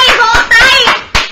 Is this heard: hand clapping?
yes